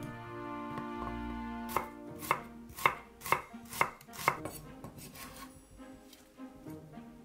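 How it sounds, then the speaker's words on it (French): Knife chopping through onion on a cutting board, slicing it thin for a vegetable pickle: a run of about eight crisp, evenly spaced close thuds over a quiet kitchen background, with no talk. "Je coupe l'oignon en fines tranches."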